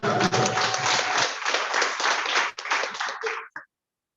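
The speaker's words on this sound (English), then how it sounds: "another round of applause" An audience at a youth development project launch claps and applauds in a dense, loud burst that thins into scattered claps before stopping abruptly.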